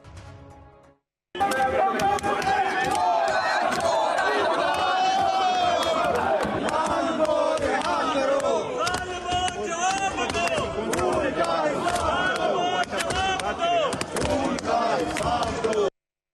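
Opposition members shout in an uproar in Pakistan's National Assembly, a loud continuous din of many voices that starts abruptly and carries on throughout.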